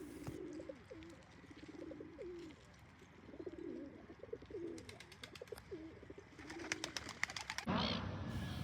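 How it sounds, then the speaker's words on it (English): A pigeon coos in a soft, repeated rhythm of low throaty calls on a street, fairly faint, with some brief chirps and light rustling near the end. "Look at this pigeon, for example."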